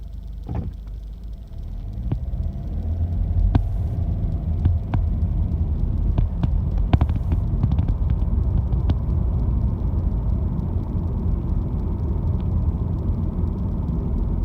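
2018 Subaru Impreza engine revving up to about 2,500 RPM while driving, a steady low rumble that rises slightly, heard from inside the car with faint clicks and rattles over it.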